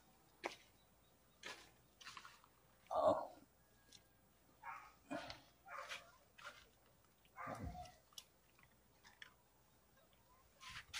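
A frightened dog in a rural countryside home gives short, scattered whimpers and a few soft barks, faint and intermittent against quiet background noise.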